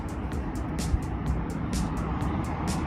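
A dirty pickup truck rolling along the road, heard from inside as a low, steady road rumble with a quick, regular run of soft hissy clicks; fairly quiet, no talking.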